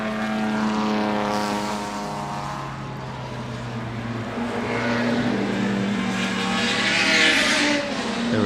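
Vintage race cars, a Lotus and a Lister Jaguar, jostling into Woodcote Corner at the Goodwood Revival, loud sustained engine drones with shifting pitch as cars pass and overlap, swelling louder toward the end.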